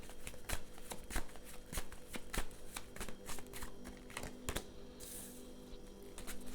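Tarot cards shuffled fast and hard, a steady run of crisp riffling slaps and flutters close up that continues without pause, with no talking over it.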